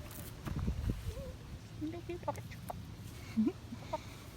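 Chickens at a farm sanctuary give short clucks and squawks, scattered and fairly close, with a low rumble and possible footsteps underneath.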